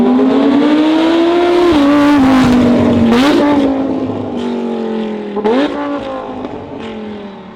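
A car fitted with valvetronic exhaust headers revs loudly up close, a sustained engine roar climbing in pitch, then easing off with a couple of sharp blips as the revs drop.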